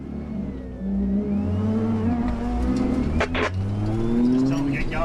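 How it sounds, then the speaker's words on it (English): A rally car in the Australasian Safari 2008 in Western Australia drives past, its engine rising and revving loudly with a steady roar over about five seconds, while a commentator talks over it. "Brian Robertson, showing good manners, moves over to let a faster car through"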